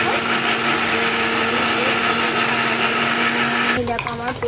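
A kitchen mixer grinder whirs loudly and steadily as it blends onion, ginger, green chili and tomato into a paste, then winds down abruptly near the end with a brief rattle.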